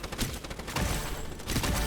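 Gunfire in the anime-style third-person shooter Strinova, a dense burst of rapid shots with a short lull in the middle, loud and close with no talk over it.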